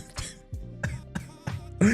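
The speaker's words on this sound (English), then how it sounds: "Cough, cough." A person coughs in several short, sharp bursts, spread unevenly over two seconds, with a slightly harsher, throat-clearing cough at the end, close to the microphone.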